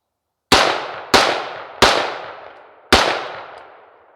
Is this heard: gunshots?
yes